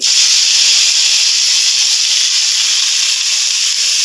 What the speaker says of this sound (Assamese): তেলখিনি অলমষ্ট গৰম হ'ল, এতিয়া পাতখিনি দি দিম